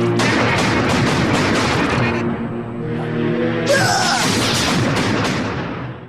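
Rapid bursts of gunfire crackle loudly, a brief lull, then more volleys of shots mixed with booming effects.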